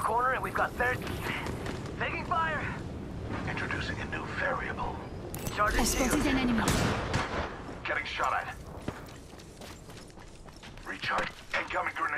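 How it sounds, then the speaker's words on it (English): Bursts of gunfire in the battle royale shooter Apex Legends crack out in irregular clusters amid mechanical clatter and game effects, with voices talking throughout. "Getting shot at."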